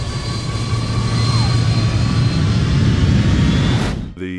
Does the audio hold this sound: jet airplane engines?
yes